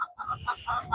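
Hens cluck in a chicken coop on a Texas ranch: quick, close, repeated clucks in a steady rhythm, loud and clear with no talking.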